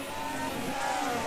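F1 racing car engines in a video game whine and rev at high pitch during the Mexican Grand Prix, a short burst of engine noise with cars surging past.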